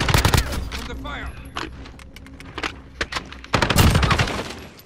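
Bursts of rapid gunfire in a first-person shooter video game, sharp cracks clustered at the start and again near the end, with quieter gaps between and a voice talking over parts of the action.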